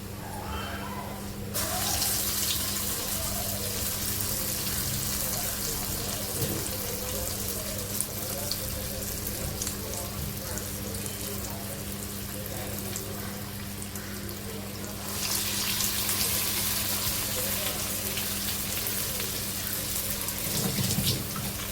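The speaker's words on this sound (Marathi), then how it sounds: "मेंदू वडा तळायला घेणार आहोत।" Medu vada frying in hot oil in a kadhai gives a continuous loud hiss and crackle that swells sharply as fresh batter goes in, with a low hum beneath and faint talking.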